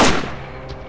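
Video game gunfire in STALKER, a sustained burst as a magazine is emptied, loud and close, starting with a heavy blast and then fading into a rumbling tail.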